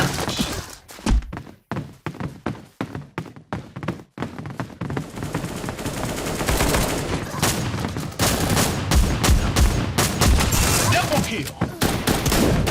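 Gunfire in the mobile shooter Bullet Angel, with sharp separate shots in the first few seconds and then a dense, loud run of rapid automatic fire and thuds that carries through to the end.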